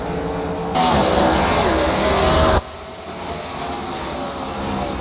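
Late model race car number 77 roars past at Five Flags Speedway, a loud close engine pass that swells for about two seconds then drops away to a lower, more distant drone.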